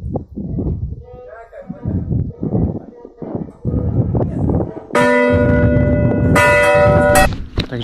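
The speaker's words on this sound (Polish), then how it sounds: "kto to dzwoni tymi dzwonami?" Church bells ring out loud and close after a stretch of speech, sustained metallic tolls with a second bell joining in, while people talk over the first half.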